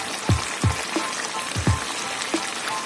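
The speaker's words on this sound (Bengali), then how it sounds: "এটা আমি নাড়াচাড়া করে ভেজে নেবো যতক্ষণ না কাঁচা ভাবটা কেটে যায়।" Onion-ginger-garlic paste frying in a pan for hariyali chicken, giving a steady soft sizzle broken by a few close, irregular scraping thumps from stirring.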